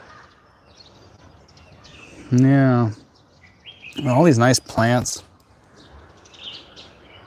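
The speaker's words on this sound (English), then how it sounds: "Yeah, those birds, they just love it here." Birds chirp faintly on a city rooftop garden, with high, scattered tweets in the background while someone talks nearby over a low ambient hum.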